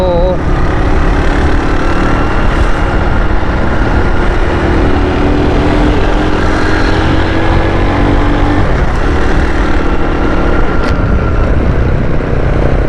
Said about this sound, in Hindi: टाइम हमारे पास कम था, इसलिए हमने स्पीड बढ़ा दी मोटरसाइकिल की।